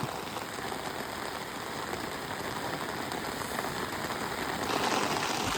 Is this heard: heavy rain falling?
yes